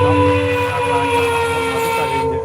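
A train runs along a railway track beside forest at Malampuzha, where a wild elephant roams; loud, steady rumble of wagons with sustained horn-like tones throughout, close by, with no speech.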